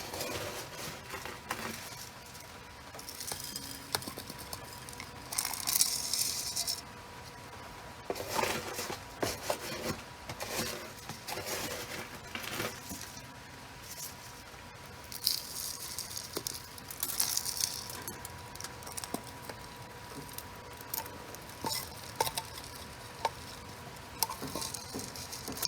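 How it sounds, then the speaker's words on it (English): Soil mix being poured and worked into the nooks of a bonsai pot while repotting a large ginseng grafted ficus: quiet, continuous gritty rattling and rubbing with scattered small clicks, close and soft, with no talk. "Now we're just gonna fill in all the nooks and crannies with our mixture."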